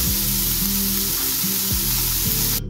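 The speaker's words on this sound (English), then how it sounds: "We are going to saute the onions and celery in a bit of neutral oil until they are soft." Onions and celery sautéing in a little neutral oil in a pan, a steady loud close sizzle with hum from the stove, no talking, cutting off abruptly at the end.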